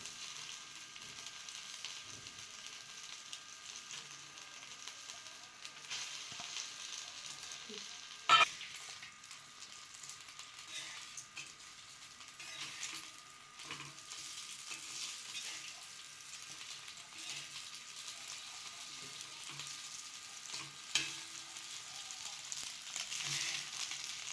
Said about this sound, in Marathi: मस्त शालो फ्राय करायचं पाहिजे